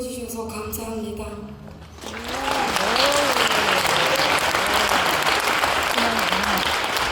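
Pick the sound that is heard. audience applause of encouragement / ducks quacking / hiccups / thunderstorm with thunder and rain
audience applause of encouragement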